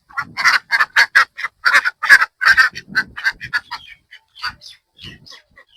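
Domestic ducks kept at a village home in the Sundarbans near the India-Bangladesh border give a quick run of close, loud quacking calls that slows and thins into a few fainter calls.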